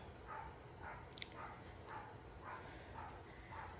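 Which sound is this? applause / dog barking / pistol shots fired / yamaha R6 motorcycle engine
dog barking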